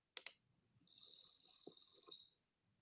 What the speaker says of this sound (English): this sort of buzzy song that goes up the scale, brrr, and then ends with this tip